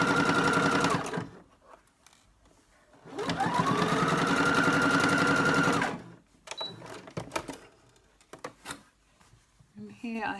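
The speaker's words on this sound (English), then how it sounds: "I'll just adjust that and then I'll stitch down to get my section." Sewing machine stitching down a seam on fabric for a Star Wars Rogue One rebel helmet cover, two sustained runs of steady motor whir and needle chatter separated by a pause, followed by scattered handling clicks.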